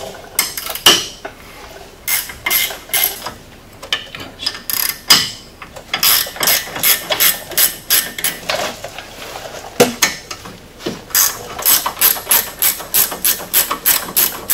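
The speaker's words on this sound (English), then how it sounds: "I'm going to go ahead and pull the brake caliper off." Hand tools working on the rear brake caliper of a Polaris RZR S 800 side-by-side: a close, loud run of quick ratchet clicks and metallic clinks in short repeated bursts, with no voices.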